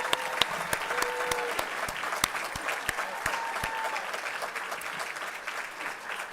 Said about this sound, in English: I would like to now ask all of our members to stand as we applaud them